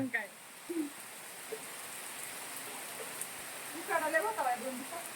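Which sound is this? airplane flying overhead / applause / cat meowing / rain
rain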